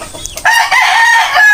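A rooster crowing up close, one loud drawn-out cock-a-doodle-doo following a brief softer cluck.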